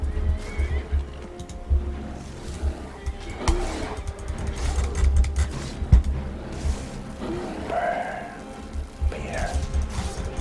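In a video game, a horse gives a couple of whinnies over a low rumbling game soundscape with scattered mechanical clicks, moderately close, and a soft voice speaks at times.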